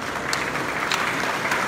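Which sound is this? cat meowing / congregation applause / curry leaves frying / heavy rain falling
congregation applause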